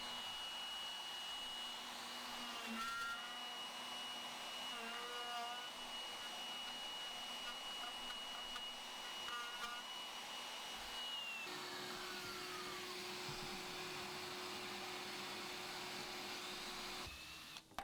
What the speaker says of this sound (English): the router moved around until I've dished out the waste